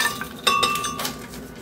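Cooled ground spices for a bottle gourd chutney are tipped into a mixer grinder jar, giving a few bright clinks and a short rattle against the jar, with a quieter tail of light contact sounds.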